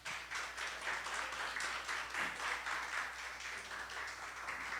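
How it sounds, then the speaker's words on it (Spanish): A congregation claps steadily in a church service, a continuous even patter of many hands at moderate distance with no voices over it. "Dale un aplauso, por favor."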